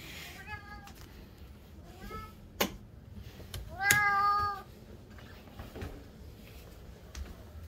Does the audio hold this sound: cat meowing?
yes